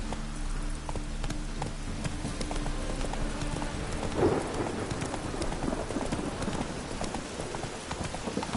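Horse hooves clip-clopping at a steady rhythm while riding in a video game, with rain pattering on surfaces and a faint distant rumble; no talking.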